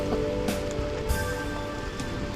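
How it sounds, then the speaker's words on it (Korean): Rain falls at a seaside fishing spot used for opaleye fishing, a soft continuous patter with faint louder drop hits, heard alone. "자 비가 오기 시작했어"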